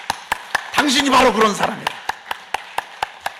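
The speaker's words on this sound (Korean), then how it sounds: "우리 옆에 계신 분 쳐다보면서 박수하십시다." Church congregation at a dawn worship service clapping in a steady, evenly spaced rhythm, crisp and fairly close, while someone speaks over the middle of it.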